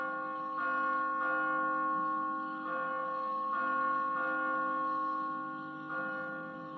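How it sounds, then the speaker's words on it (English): A large bell in The Walking Dead (Telltale Games) video game rings repeatedly, each deep resonant clang swelling and fading into the next in a slow, loud, steady rhythm. "Now, I gotta ring the bell"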